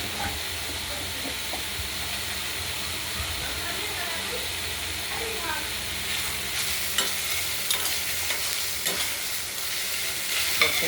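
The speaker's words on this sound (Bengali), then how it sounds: "এবার নাড়াচাড়া করবো।" Banana stem stir-fry tempered with mustard seeds is stirred in a pan, giving a steady sizzling hiss with faint scraping, continuous and close.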